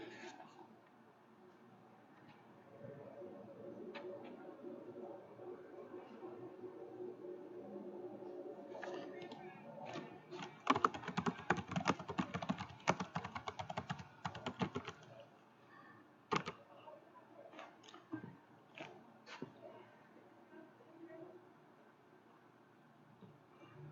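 Bursts of clicking keystrokes on a computer keyboard while form fields in Excel 2016 are filled in, densest midway through and then sparser, close and moderately loud over faint room noise.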